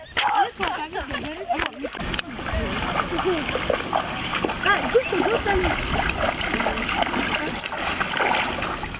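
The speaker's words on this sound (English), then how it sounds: "13-year-old Emanuela and her friends prefer to fetch water from this water source." Children splash and slosh as they fetch water at an outdoor water source. The splashing is continuous and close, with voices and chatter mixed in.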